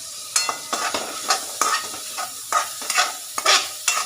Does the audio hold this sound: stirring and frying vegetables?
yes